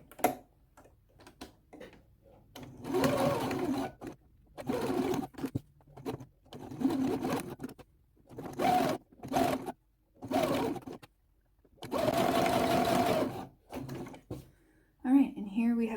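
A sewing machine stitches a zipper into an eight-panel skirt in several separate bursts of running, with short pauses between them while the fabric is repositioned.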